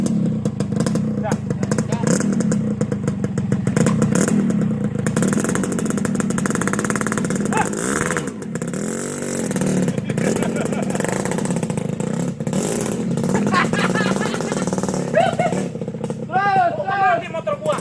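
Small motorbike engine running and pulling away, a steady buzzing drone under continuous overlapping talk, with the revs swelling and fading as it rides off.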